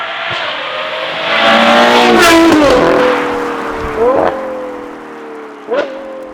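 A Novitec-tuned Ferrari Purosangue V12 with a re-engineered exhaust, sport catalysts and an X-pipe, revs up close: a long rising and falling roar, then two sharper blips with crackles between them.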